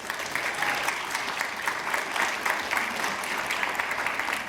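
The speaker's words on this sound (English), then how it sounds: "please give a massive round of applause to welcome the judges for today." A massive round of audience applause welcoming the judges at a Ramadan audition show, dense steady clapping from a sizable crowd, heard from some distance and sustained throughout.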